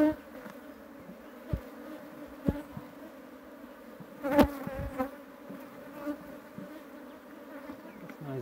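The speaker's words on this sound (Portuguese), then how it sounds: "era para ter muita abelha. Muita abelha mesmo" Honey bees buzz around a hive during a queen swap on a mango-branch rescue colony, a dense continuous drone with sharp close passes of individual bees zipping by the listener.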